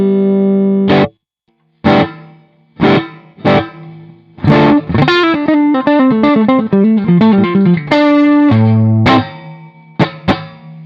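Electric guitar played at an edge-of-breakup amp setting with a cheap passive reverb modification inside the guitar, loud slightly gritty strummed chords and single notes with short gaps and a faint ringing tail.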